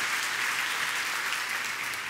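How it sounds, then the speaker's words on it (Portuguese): Church congregation applauding, a dense steady wash of hand claps filling the room, loud and unbroken with no talk. "Pode dar uma salva de palmas ao Senhor."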